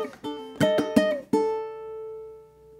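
Bar 3 of Danse Macabre played on ukulele: a quick run of bright plucked chords and notes, then one last note rings out and slowly fades, heard alone and close.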